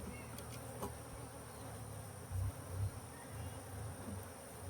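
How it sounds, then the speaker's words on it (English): Southern Italian honey bees buzzing inside a shipping package in a steady, low drone, with a couple of brief louder swells and a few light taps of the package on the hive. "I tap the package on the hive to knock the bees to the bottom of the package."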